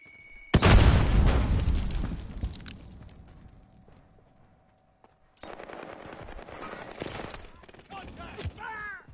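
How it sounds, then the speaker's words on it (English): A grenade explodes in a shooter video game, a loud, close boom with crackling debris that rumbles and fades over several seconds, followed by bursts of gunfire and game sounds. "Grenade out! Grenade out!"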